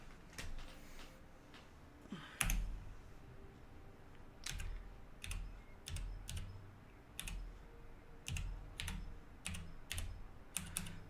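Computer keyboard typing in irregular bursts of close, crisp key clicks, with short pauses between runs and no talking.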